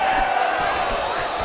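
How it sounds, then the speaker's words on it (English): Arena crowd in the UFC 5 video game roaring as fighters get back to their feet, a dense sustained cheer over steady background din, with a commentator's voice over it. "big pop from the crowd as they get back to their feet"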